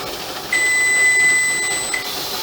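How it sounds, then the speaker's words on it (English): A kitchen timer gives a steady high electronic beep lasting about a second and a half over a loud hissing background during pressure canning of bone broth, with a brief extra chirp near the end. "So our timer is about to go off."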